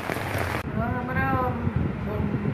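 A heavy monsoon downpour pours down steadily across the whole stretch, a dense, even hiss of rain beneath a voice that speaks over it.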